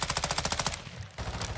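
Rapid automatic gunfire in Call of Duty: Modern Warfare II DMZ rattles in a fast burst of close, loud shots, stops briefly, then resumes.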